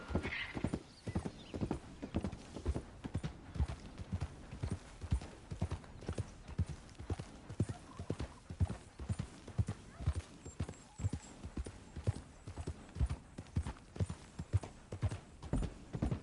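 Horse hooves clip-clopping at a steady, rapid gait in Red Dead Redemption, a continuous rhythmic run of sharp thuds lasting throughout, with a brief whinny early on and no talk over it.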